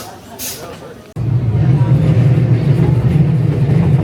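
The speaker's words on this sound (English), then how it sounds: "The second train of the day." Steady low rumble of a narrow gauge FEVE train rolling along the tracks between Santander and Bilbao, Spain, heard from inside a carriage, with a quieter moment before the noise swells and holds.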